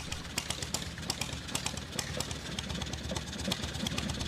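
An old engine from the steam era runs roughly, its uneven flywheel setting up a loud, irregular chugging with sharp periodic knocks over a steady low rumble, close and continuous with no talk.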